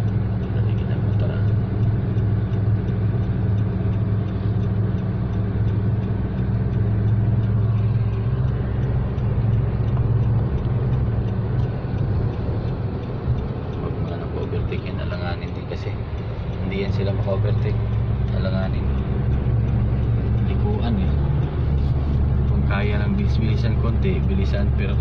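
A motorcycle engine runs steadily for a long stretch with a low, constant rumble, and a voice talks over it at times.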